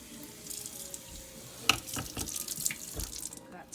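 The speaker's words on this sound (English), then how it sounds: "Then you will rinse for a little bit" Beans are rinsed under a running kitchen tap, a soft steady water stream with splashing as they are moved about in the sink.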